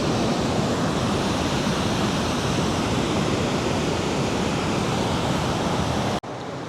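Water of Tahquamenon Falls roars in a steady, loud, broadband rush that fills the whole stretch without pause before cutting off abruptly near the end.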